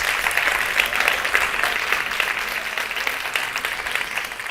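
Audience applause at a state conference on vicarious and gender-based violence, a dense, steady crowd clapping sustained at even loudness for several seconds with no talk over it.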